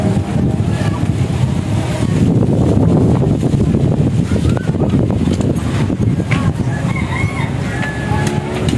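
Strong wind roars and buffets across an outdoor path, a constant broadband rush with gusty low rumble filling the whole stretch, faint scattered background sounds mixed in.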